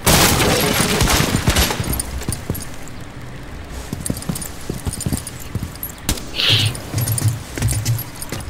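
Gunfire in the tactical shooter game Rainbow Six Siege: scattered sharp shots and bursts ring out over a busy in-game background, with a louder cluster of reports near the end.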